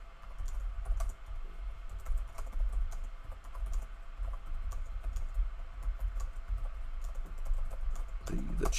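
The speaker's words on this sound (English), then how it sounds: "I'm trying to type with my keyboard" Rapid, continuous typing on a computer keyboard, with dense irregular key clicks close to the mic that run steadily for several seconds.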